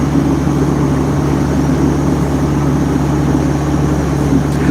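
Boat motor droning steadily at about 1,550 RPM on a sailing vessel departing the Solomon Islands, a loud, constant low hum with no change in pitch.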